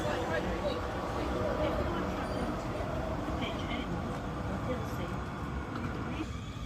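A South Western Railway Class 444 electric unit, 444030, on a London Waterloo to Portsmouth Harbour service, passes as a steady, close rushing roar. Voices murmur faintly in the background.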